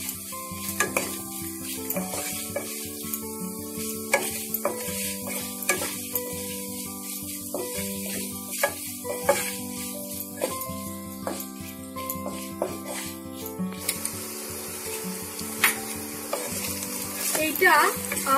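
Paneer masala with turmeric and chili powder fries in a pan for vegetarian achari paneer: a continuous sizzle with repeated stirring clicks and scrapes, set against a sustained musical background, growing slightly busier toward the end.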